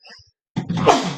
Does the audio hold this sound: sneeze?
yes